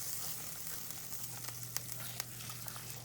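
Roux for a surf and turf gumbo sizzles steadily in a pot while being stirred constantly, a soft continuous hiss with a few faint scrapes and ticks, close and fairly quiet with no talking.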